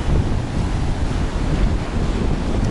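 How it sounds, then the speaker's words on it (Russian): Stormy sea waves roll and break on a wild, untended beach near Anapa in a continuous loud roar, with heavy wind buffeting the microphone and no voices. "Сегодня штормит, такое волнение."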